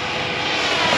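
An Avios Spitfire 1450mm warbird RC plane runs its engine at full throttle, a loud, steady, high-revving drone close by with no pauses.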